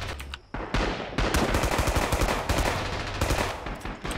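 Pistol and rifle fire in the Rising Storm WWII shooter game, a rapid string of sharp, loud shots close by with a dense battle din.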